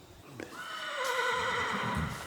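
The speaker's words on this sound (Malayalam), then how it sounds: "ഇത് കാട്ടുകുതിരയാണ് കേട്ടാ" A wild horse whinnies loudly and close by in one long, quavering neigh that rises and trails off over a couple of seconds, with a soft hoof-like knock just before it.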